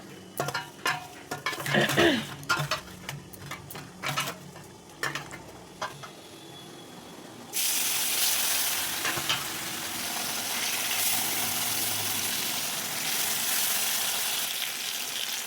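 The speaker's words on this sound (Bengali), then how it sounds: "লবণ হলুদ মেখে মাছটাকে তেলের উপর ছেড়ে দেবো" Fish rubbed with salt and turmeric goes into hot oil in a wok. After a few clanks of utensils it bursts into a loud, steady sizzle that holds to the end.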